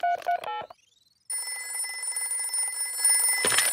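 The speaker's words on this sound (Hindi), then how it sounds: "सुनिए, हम दादा और दादी को फोन करते हैं।" A telephone in a Peppa Pig cartoon is dialed with a quick run of bright keypad tones, then a short pause, then a steady electronic ringing tone that grows slightly louder before a burst of noise at the end.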